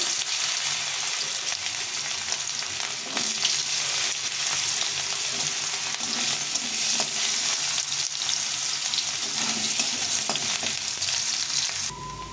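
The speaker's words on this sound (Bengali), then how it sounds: "প্রথমে গাজরটা একটু ভেজে নেব।" Carrot pieces fry in white oil in a hot kadai, a steady close sizzle with occasional stirring scrapes and clinks running continuously for about twelve seconds.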